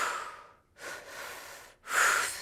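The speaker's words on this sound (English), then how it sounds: "It's into the belly, up into the chest, and out through the mouth." Tri-active breathwork exercise: a long airy inhale drawn into the belly and up into the chest, then a strong breathy exhale out through the mouth, close and alone.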